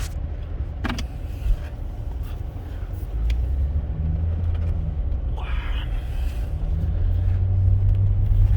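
A 2005 Cadillac STS V8 on the road, heard from inside as a steady low engine and road rumble that swells slightly toward the end, with a few brief clicks.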